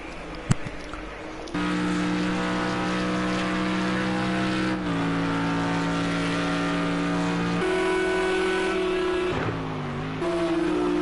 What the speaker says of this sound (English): The Audi R8 now overtaking him.